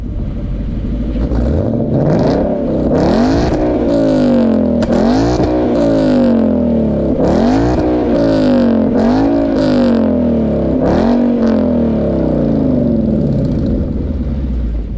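A Mustang GT V8 with headers and a Borla S-Type exhaust barks through a series of repeated revs, each rising sharply then dropping, with a deep rumble throughout and no talking.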